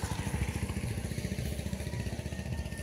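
A motorcycle rides along at a steady pace, its engine putting out a fast, even chug with a constant rhythmic pulse, close and moderately loud.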